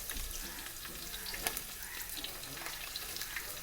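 Ginger and garlic sautéing in coconut oil, a dense steady hiss of frying close up, with faint stirring clicks over the top and no talking.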